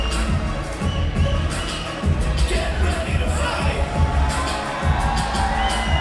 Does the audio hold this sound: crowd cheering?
yes